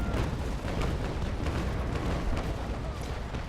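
A naval frigate in the game Naval Action Legends fires its cannons, a rolling, rumbling broadside of heavy booms blending into continuous low thunder, loud and close throughout.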